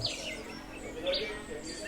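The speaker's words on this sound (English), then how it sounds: "The Cuban emerald flickers into view, a living jewel that disappears the moment you try to hold it still." A Cuban emerald hummingbird in Cuban woodland gives faint, brief high chirps, a couple of short calls over a steady, quiet background hiss.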